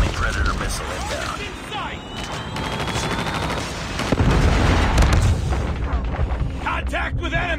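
Predator missile strikes in Call of Duty Mobile, a barrage of loud booms and rattling gunfire with a sharp impact blast partway through, over continuous battle noise and game voice callouts.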